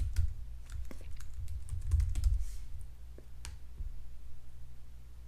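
Key taps on a computer keyboard while a new password is entered for a cloud-hosted VoIP Asterisk server, a sparse run of light clicks in short bursts over a low steady hum, close and fairly quiet.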